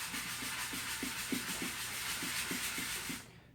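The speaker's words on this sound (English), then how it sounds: "we're going to move up to the 300 grit sandpaper I have here" Steady, close rubbing of 300 grit sandpaper hisses continuously on a helmet build, with soft rhythmic strokes about three per second, then it stops abruptly near the end.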